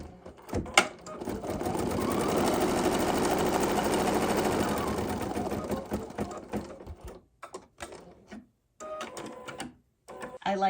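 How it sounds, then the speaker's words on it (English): An embroidery machine sews a placement stitch on fabric for a red sampler block, running steadily and loud for about seven seconds, then stopping and restarting in short bursts with gaps of quiet between. "do a placement stitch"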